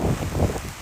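Low, steady wind gusting and buffeting close to the microphone during a hailstorm by a greenhouse, a dull rumbling rush with no voices.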